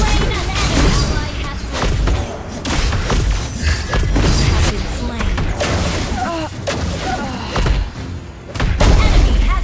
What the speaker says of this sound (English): team destroy the turret